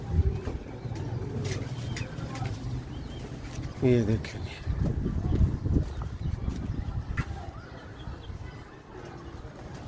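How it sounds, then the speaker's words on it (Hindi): Soft, low coos from Sialkoti pigeons come and go under steady close-up talking, with some rustling and shuffling in the background. "इस कबूतर को देखें"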